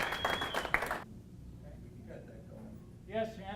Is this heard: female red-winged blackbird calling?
no